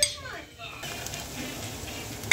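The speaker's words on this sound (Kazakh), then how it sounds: "Енді осыған жуаны қуырып" Onion fries in oil in a pan as a Kazakh dish is cooked, a soft steady sizzle with a brief clink of a utensil against the pan near the end and no talk.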